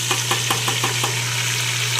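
Chopped tomatoes tipped into garlic-ginger paste frying in a pan for chana dal, a steady close sizzle with a run of soft, rhythmic stirring knocks over a constant low hum, no talking.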